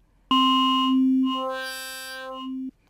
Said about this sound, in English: then it seamlessly blends these waveforms in with one another